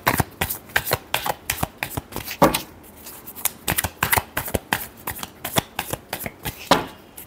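Tarot cards are shuffled by hand in a rapid series of crisp, riffling bursts, close and fairly loud, with no one speaking.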